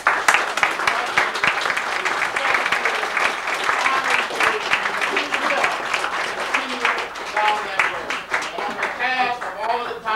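Applause rises for James and Grace Boggs at a celebration of James Boggs's 71st birthday, lively clapping from the gathered audience while voices and cheers mix in throughout.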